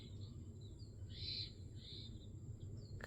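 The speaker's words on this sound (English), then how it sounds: "What kind of bird is that? Is this the jungle mode?" A galaxy projector's jungle sound mode plays recorded bird calls: a few clear, whistling hoots and chirps repeat over a quiet, steady ambient background, fairly soft and alone.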